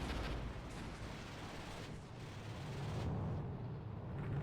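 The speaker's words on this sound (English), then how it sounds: "Here come rockets." Rockets and explosions from air support in a war strategy video game set in Vietnam: a continuous, dense rumble of blasts and booming impacts, steady and heavy throughout with no clear gaps.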